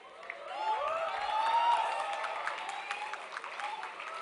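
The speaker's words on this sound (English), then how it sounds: "Students, please keep up your enthusiasm during the applause." Students at a university convocation ceremony applaud in a sustained round of clapping that swells and then tapers, filling the hall with no speech over it.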